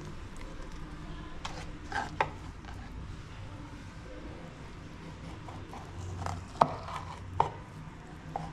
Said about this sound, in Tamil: நம்ம பாதியாக கேட் ஃபிஷ் கட் பண்ணணும்